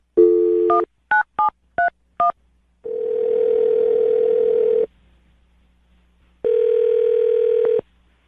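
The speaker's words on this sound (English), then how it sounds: "I'm going to dial her phone number right now" A telephone dials a number with five quick tone beeps, then two long steady ringback tones separated by a pause.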